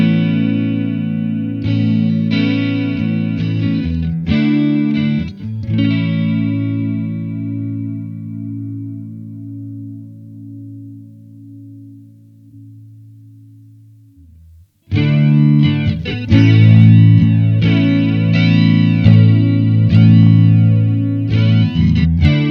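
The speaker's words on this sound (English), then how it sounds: "The first one is a chorus slash flanger." Electric guitar chords through a Blackstar Amped 2 chorus/flanger effect, a swirling, shimmering modulation sweeping through them, a long sustained chord ringing out, then a brief gap before strumming resumes.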